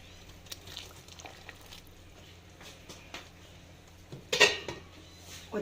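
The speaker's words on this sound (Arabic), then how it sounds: "واديله بقى تقليبه كده ايه، واسيبه حوالي 10 دقايق" A spoon stirs lentil soup, thinned with chicken broth, in a pot, giving soft scattered clinks and scrapes against the pot's sides before a louder metallic clatter near the end, close up with no talk.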